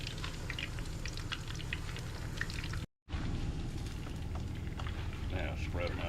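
French fries bubble and sizzle in oil in a pan on a camp stove, a close, continuous crackling with faint voices, briefly cut by a short silent gap.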